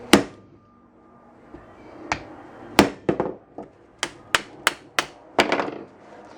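A hammer beats on a Datsun 521 ball joint resting on a rag: about a dozen sharp, close metallic blows, irregularly spaced and growing quicker toward the end.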